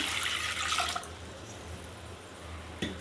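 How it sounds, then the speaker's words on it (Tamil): Water pours from a jug into a cooking pot on the stove in a short gushing splash that fades after about a second, followed by quieter drips and a soft knock. "ஒரு சொம்பு தண்ணி ஊற்றிக்கலாம்."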